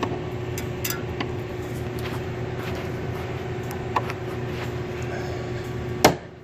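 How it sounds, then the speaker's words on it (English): A screwdriver pops a plastic grille tab free on a 2015 Ford 6.7 diesel pickup, giving a soft click midway and a sharper, louder snap near the end over a steady background hum. "See this little window that I'm sticking my screwdriver in? I push it down and I'm releasing the tab."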